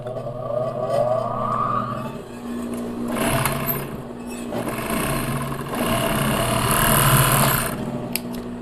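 An industrial sewing machine runs test stitches on ribbed knit cuff fabric, giving a steady motor whir with bursts of faster stitching and a rising buzzing hum throughout, loud and close with no talking.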